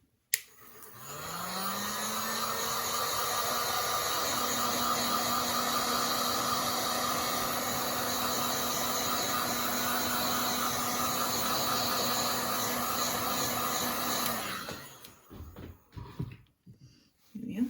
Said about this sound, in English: And now I'm going to dry this off again, using my heat gun.